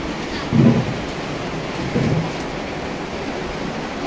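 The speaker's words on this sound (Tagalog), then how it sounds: "Lakas ng ulan, grabe." Heavy rain pours down steadily on a house in the Philippines whose roof is leaking, with two low rumbles of thunder rising briefly over the constant hiss of the downpour.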